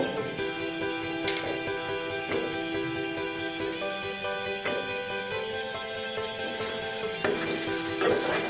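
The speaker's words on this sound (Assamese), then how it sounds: "আলুখিনি দিয়াৰ পিছত কিছু সময় এনেদৰে ভাজি ল'ম" Meat and potatoes fry steadily in a pan, a continuous close sizzle with occasional sharper crackles and stirring scrapes, no voices.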